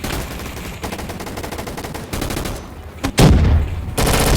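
Rapid gunfire in a video game shooter arena: dense automatic bursts crackle steadily, then louder close shots and blasts punch in near the end.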